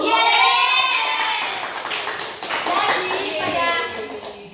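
A classroom of young schoolchildren clap together in a loud, dense patter that holds steady for a few seconds, with kids' voices calling out over the applause.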